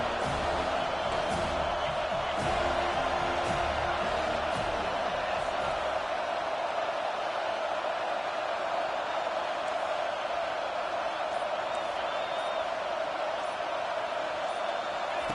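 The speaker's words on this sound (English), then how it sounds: "Decibels rising as the crowd gets behind this defense on third down." Stadium crowd roaring during a college football video game on third down, a loud continuous wash of cheering that holds steady without a break.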